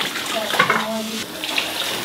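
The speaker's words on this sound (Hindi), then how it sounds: "थोड़ा पानी डाल लेते हैं, पानी कम है।" Water runs from a tap into a container at home, a steady close splashing rush filling the whole stretch, with faint voices in the background.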